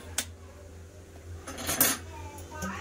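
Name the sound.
wok (kadai) placed on the stove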